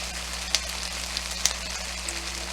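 Steak strips for a broccoli beef stir fry hiss steadily in a hot pan, a close, even sizzle with a few sharp pops and crackles scattered through, with no talking.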